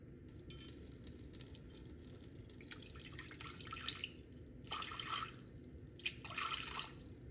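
About 150 grams of water pours into a Thermomix mixing bowl, a splashy trickle that comes in two bursts near the end over a steady low kitchen hum, with no one talking.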